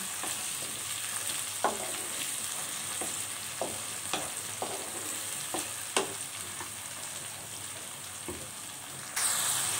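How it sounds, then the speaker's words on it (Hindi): Garlic and ginger paste frying with golden-browned onions for a chicken, spinach and potato curry: a steady close sizzle with a spoon knocking and scraping the pan at irregular intervals. "अब मैं इसमें लहसुन अदरक का पेस्ट ऐड कर दूंगी।"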